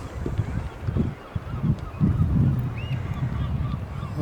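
On Skomer Island, geese honk repeatedly at close range over a low rumble of wind and sea swell, with a thin higher bird call briefly cutting through.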